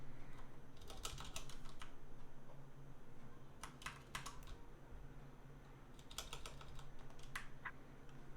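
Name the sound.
typing a command on a computer keyboard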